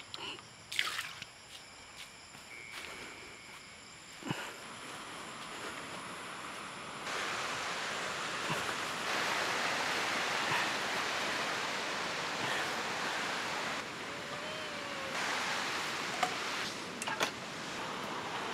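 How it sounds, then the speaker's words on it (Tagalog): Strong gush of water from a campsite faucet, steady and loud, filling a small bucket, with a few knocks and clatters near the start before the flow settles into a continuous rush. "Ito naman yung gripo nila. Lakas ng tubig."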